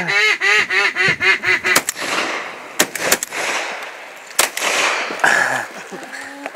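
Ducks quack loudly in a rapid, rhythmic series at a duck hunt, followed by sharp sporadic bangs and scattered calls as a person talks.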